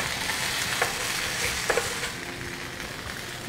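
Osaka Ohsho original gyoza dumplings pan-fry in a hot pan, giving a steady close hiss and sizzle with a few light clicks and scrapes.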